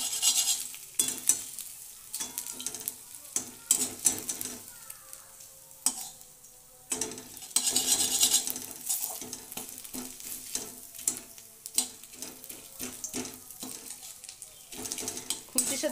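Dal tipped onto ginger frying in a pan for lau diye kalai dal, giving a soft oily sizzle broken by repeated scraping strokes of a spatula, with brief quieter gaps between bursts of stirring.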